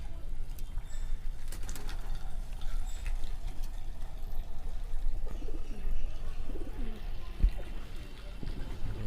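Soft pigeon cooing over a low outdoor rumble, with faint bird calls and a brief splash of water near the end.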